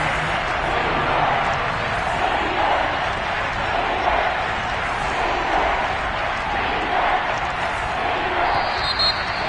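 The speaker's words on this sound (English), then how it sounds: "The crowd getting into it as we come up on a big 3rd down." Steady roar of a stadium crowd cheering in a Madden football video game ahead of a big third down, a continuous broad wash of noise that holds at an even, fairly loud level throughout.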